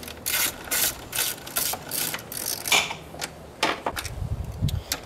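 Ratchet wrench backing out the four 5/16 bolts that hold a car engine's throttle body: rapid clicking ratchet bursts, close and fairly loud, repeating in short runs with brief pauses and a low thunk near the end.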